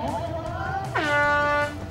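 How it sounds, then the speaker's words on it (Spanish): An air horn signals the start of the elite women's triathlon at the Santa Catalina pier in Las Palmas de Gran Canaria: one sustained, loud blast lasting under a second over a background murmur of voices. "solamente quedaba esperar al bocinazo que marcase el comienzo de la prueba élite femenina"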